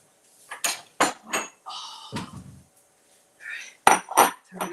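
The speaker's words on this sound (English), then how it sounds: "let me cut this fruit" Knife work on fruit in a home kitchen, heard as several sharp close clinks and taps of a blade against a board or dish, spaced irregularly with short pauses between strokes.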